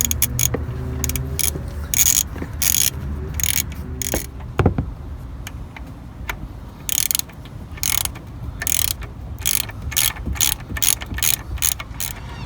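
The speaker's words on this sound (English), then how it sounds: "it would help if you had a longer ratchet, just so that you're not in this confined space" A ratchet loosens alternator bolts on a 2005 Toyota Tacoma standard cab, giving repeated bursts of sharp clicking, close and loud, separated by short quiet pauses and a metallic clank.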